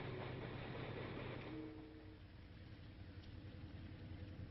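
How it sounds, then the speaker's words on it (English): Santa Fe Railroad train, a steady rumbling roll of rail cars with a low mechanical drone and faint clatter, continuous and moderately close, with no voices. "2 trains were chartered from the Santa Fe Railroad for the journey."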